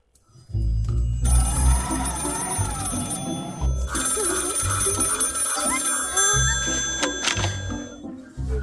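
Telephone ringing while calling a control tower, a repeated electronic ring tone in steady bursts with short gaps, fairly close, over low background noise.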